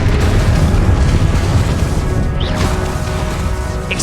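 A Confringo spell blast in Hogwarts Legacy, a loud sustained booming explosion filling the whole moment with dense rumbling and crackle, close and dominant.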